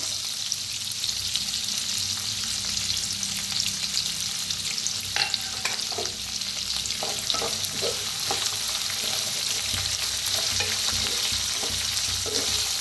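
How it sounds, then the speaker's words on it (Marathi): Green chilies, curry leaves and cashews fry in a pan of hot oil with a steady, close sizzle. Scattered crackles and pops run through it, with no one talking. "हिरवी मिरची, कढीपत्ता आणि काजू टाकूया."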